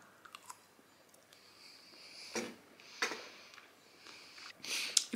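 Quiet chewing and crunching on air-fried chicken, heard close up as a few soft bites spaced out over a few seconds, with light sniffs between them.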